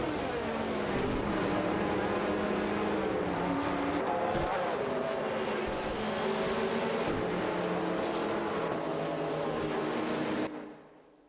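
Race cars in a racing video game, a Lamborghini Diablo GTR battling Chevrolet Camaro IMSA cars, give a dense, continuous engine roar with shifting revs that stays loud throughout, then cuts off abruptly at the end.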